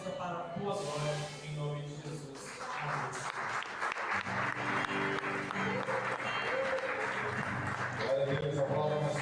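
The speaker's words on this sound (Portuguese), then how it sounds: "aplauda mais forte" A church congregation applauds continuously, a dense clatter of clapping under music and amplified voices.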